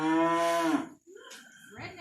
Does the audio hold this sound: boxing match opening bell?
no